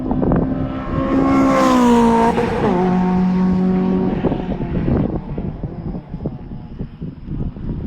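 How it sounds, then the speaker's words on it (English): A Honda-powered Lotus race car roars past at close range, its high engine note sweeping down in pitch as it goes by, then fading into distant track noise. "that Honda-powered Lotus just sounds so great when it goes by"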